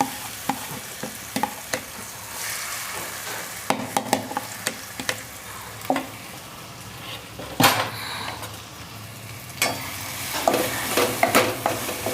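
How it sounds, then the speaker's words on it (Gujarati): Corn, carrot and beetroot mixture roasting in a pan for corn-carrot parathas, with a spatula scraping and stirring in repeated sharp strokes over a low, steady sizzle, close and fairly loud. "તો હવે એને આપણે થોડાક શેકી લઈશું એમાં આ બધું નાખી દેવાનું"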